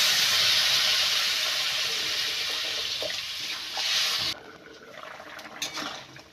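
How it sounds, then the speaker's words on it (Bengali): Water bubbling and hissing as potatoes boil in a pan for a Bengali ridge gourd and rohu fish curry, a steady loud seething that cuts off abruptly partway, leaving quieter faint clatter. "এইবার জল দিয়ে আলুগুলো ভালো করে সেদ্ধ করে নেব।"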